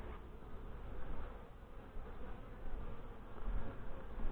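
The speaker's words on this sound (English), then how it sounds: "Wow, there's a lot of bees in here." Honey bees buzz inside an open beehive in the early morning. The hum is dense, continuous and low, and swells and eases a little, with no voices.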